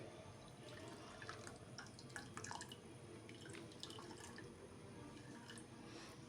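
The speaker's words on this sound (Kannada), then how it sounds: "ಈಗ ಮೇಲ್ಗಡೆ ನಾನು ತಣ್ಣೀರನ್ನು ಹಾಕ್ತಾ ಇದ್ದೇನೆ. ಇದಕ್ಕೆ ಫುಲ್ ತಣ್ಣಗಿನ ನೀರನ್ನು ಹಾಕ್ತಾ ಇದ್ದೇನೆ." Cold water poured over chhena while making soft rasmalai, a faint, steady dripping and trickling flow close by with no talk.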